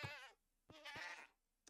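Goats bleating in Minecraft, two close, loud, wavering bleats in quick succession, the second longer, with nothing else heard.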